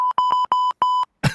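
A broadcast dump button sounds a sharp electronic tone in several short, evenly spaced pulses, like Morse code, followed by a brief burst of noise.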